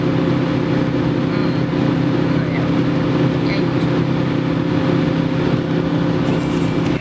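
A car driving along a road beside a field, its steady engine drone and road rumble continuous and fairly loud from start to finish, heard from inside the vehicle with no distinct pass-by.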